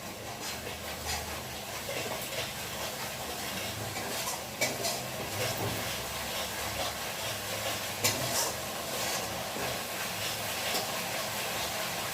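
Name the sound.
pointed gourd and potato stirred and sizzling in frying spice paste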